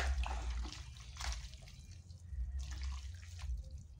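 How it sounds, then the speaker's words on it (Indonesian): Boiled cassava leaves being rinsed in water, with soft splashing and dripping in uneven bursts, faint and close, in a quiet kitchen. "habis direbus kita cuci lagi"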